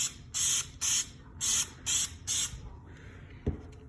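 A spray gun lays automotive clear coat onto a guitar body in five sharp, evenly spaced hissing bursts close by, then quieter handling noise and a single soft knock.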